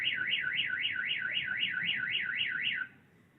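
A car alarm wails in a rapid rising-and-falling siren, steady and fairly distant, then cuts off abruptly near the end, leaving quiet.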